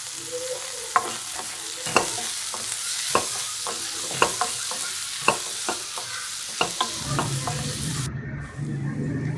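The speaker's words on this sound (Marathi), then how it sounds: "आता टोमॅटो पण टाकून घेऊया सगळं असं परतून घ्यायचं चांगलं" Onion, ginger, garlic, green chili and tomato sautéed in a pan with a steady close sizzle, punctuated by regular sharp scrapes and knocks of a stirring spoon about once a second, fading at the end.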